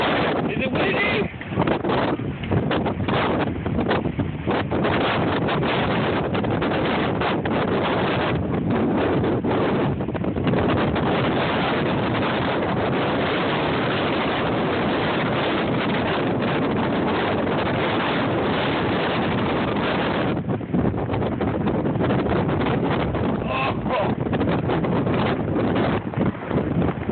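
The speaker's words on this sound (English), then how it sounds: "It's gonna be so windy." Strong hurricane wind roars across a beach, blasting the microphone in a loud, continuous buffeting rush that barely eases for nearly half a minute.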